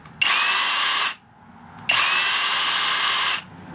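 A Kobalt SDS Plus 24V Max rotary hammer runs in drill-only mode, giving two loud, close, steady high-pitched whirring bursts of about a second each, separated by a short pause.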